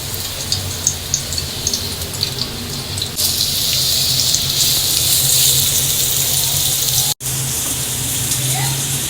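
Sliced onions frying in hot oil for karela keema, a dense, steady sizzle that swells louder after a few seconds and continues close by with a brief break near the end.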